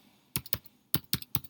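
Keys on a computer keyboard are tapped in a short, uneven run of about six crisp, close keystrokes with brief pauses between them, quiet and with no voices.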